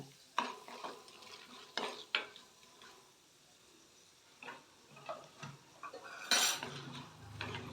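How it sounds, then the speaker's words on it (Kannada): Chana dal and urad dal fry with cumin in a pan for masala dosa potato filling: quiet, scattered spatula scrapes and clinks over a faint, soft sizzle, with one brief sharp clatter near the end. "ಸ್ವಲ್ಪ ಕೆಂಪುಗೆ ಫ್ರೈ ಆಗಬೇಕು ಕಡಲೆಬೇಳೆ ಉದ್ದಿನಬೇಳೆ ಎಲ್ಲ"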